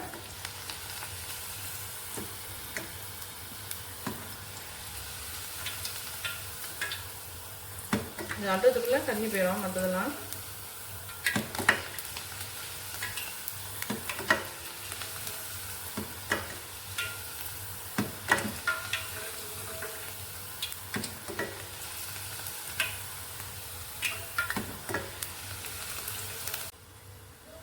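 Moong dal frying in hot oil in a small pan gives a soft, steady sizzle with scattered pops and stirring clicks, a louder bubbling flare early on, and someone talking over it.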